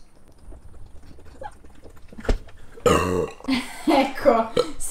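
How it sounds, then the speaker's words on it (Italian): A loud, drawn-out burp after drinking Coca-Cola erupts close to the microphone about midway, after a quiet stretch, followed by further throaty voicing. "stiamo già iniziando con i rutti"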